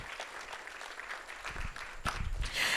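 Audience applause for Mr. Ron Busby at a jazz brunch held at the Kennedy Center, a faint, distant patter of clapping that grows fuller and louder toward the end.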